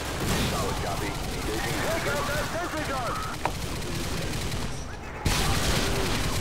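A sentry gun fires in Call of Duty MW2: sustained rapid automatic gunfire forms a dense, continuous rattle, with a sharp crack near the middle and a brief lull before a loud resumption.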